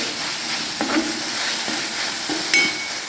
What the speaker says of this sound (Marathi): टोमॅटो मिठाने लवकर असं शिजून होत आहे